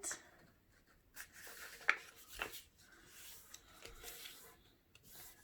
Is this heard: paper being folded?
yes